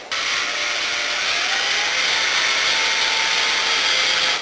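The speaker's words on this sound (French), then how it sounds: "on va effectuer un perçage, un pré-perçage avec une petite mèche." Small drill bit pre-drilling a pilot hole in a wooden frame piece for a mini planter greenhouse, heard as one steady close whirring run with no talking.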